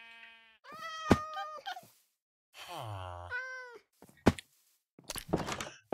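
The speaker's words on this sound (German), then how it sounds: "Oh, ich habe eine Katze." Cat meows in Minecraft, several drawn-out tonal mews and one sliding cry separated by short pauses and sharp clicks, close and clear with no talk.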